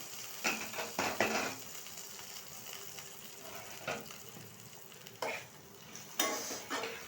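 Potatoes frying in a pan with chili powder added make a continuous soft sizzle, broken by repeated scraping stirs of a utensil against the pan, close and alone without speech.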